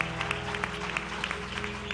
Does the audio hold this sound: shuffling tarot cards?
no